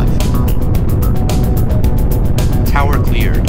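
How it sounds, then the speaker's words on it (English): In the iOS game Space Agency, a rocket engine starts for liftoff, giving a heavy, unbroken rumbling roar at a constant high level beneath a voice counting down. "Engine start. 2,"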